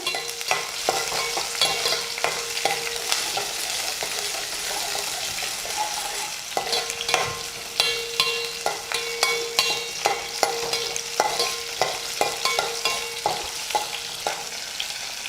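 Small sambar onions sautéing in oil over a medium flame for a Nellai-style fish kuzhambu, a continuous near sizzle broken by rhythmic clinks and scrapes of a ladle stirring against the pan.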